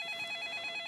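A telephone rings late at night in a home, a faint electronic trilling ring with a steady warbling pulse, heard alone in a quiet room.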